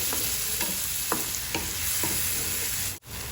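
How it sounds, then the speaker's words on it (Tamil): Chopped banana sautéing in a pan for Kerala-style banana adai, with a steady sizzle under regular scraping stirs that come about every half second, close and moderately loud, with no talking. The sizzle cuts out briefly near the end. "இப்போ நம்ம வாழைப்பழம் நல்லா வதக்கி எடுத்துட்டேங்க நான்."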